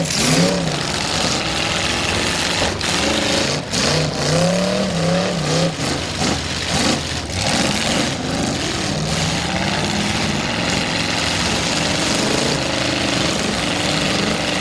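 A race car stuck in the grass at Midvale Speedway during the 2018 Fall Classic, its engine revving loudly and continuously with rising and falling pitch, close and dominant.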